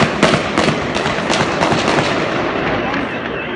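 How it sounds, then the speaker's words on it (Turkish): Gunfire erupts during an attack on police, with rapid, dense, overlapping cracks that stay loud and close throughout, and voices shout beneath the shooting. "Kim o sıkan kim ya?"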